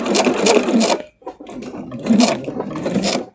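A domestic sewing machine runs steadily as it stitches through a quilted wall-hanging, with a mechanical whir that pauses briefly midway and then resumes, loud and close.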